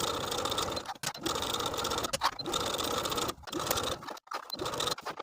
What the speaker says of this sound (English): Now I'll take it to the sewing machine and top stitch all the way around with a 1/4 inch seam allowance.